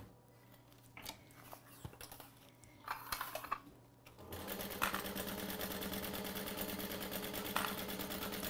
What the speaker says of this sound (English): I'm gonna stitch all the way around the edge.